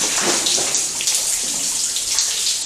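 Water runs and drips steadily inside an old Mid Wales mine, a continuous hissing trickle with faint splashes, close by and alone without any voices.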